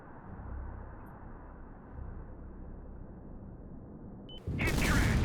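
Low ambient rumble of a naval battle in the Sea Power game, then near the end a sudden loud torpedo impact explosion erupts on a ship, booming and sustained to the close.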